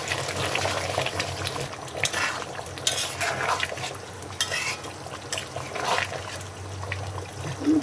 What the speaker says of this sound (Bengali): এখন আমি গরম ঝোল দিয়ে দিচ্ছি।